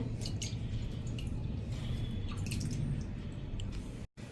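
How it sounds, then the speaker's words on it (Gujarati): Hands splash water over a face in a steady wet, dripping wash, quiet and close under a constant background hiss, ending with a brief cut. "નહીંતર હાથેથી જ તમારે આ રીતે પાણી સાથે વોશ કરી લેવાનું છે"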